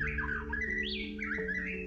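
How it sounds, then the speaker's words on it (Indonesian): A caged songbird gives loud, close squawking calls in quick, varied bursts, with a steady low hum in the background. "kicau burung itu begitu menghibur hati penggemarnya"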